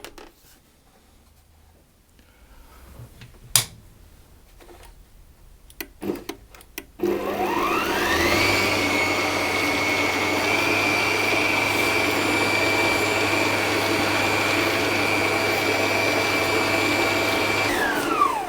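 A stand mixer fitted with a dough hook kneads cherry pie dough, starting after a few seconds of quiet handling clatter, then a loud, steady motor whine and low churning hum running continuously to the end.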